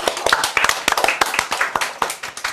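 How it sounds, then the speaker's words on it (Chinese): A small group claps at a studio food-tasting segment of a fashion talk show, with quick, uneven hand claps close by, loudest at the start and thinning toward the end, and a voice faintly underneath. "掌声，掌声"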